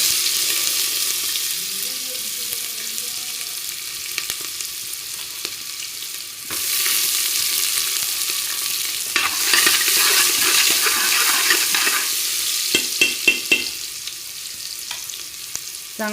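Chopped onion hits hot oil in a pan over a wood-fired chulha stove, a loud broad sizzling hiss that swells partway through and keeps crackling steadily, with a few sharp pops near the end.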